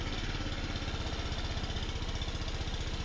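A motorcycle engine, just after a valve and timing adjustment, runs steadily at idle nearby with an even, rapid thumping pulse throughout, no voices.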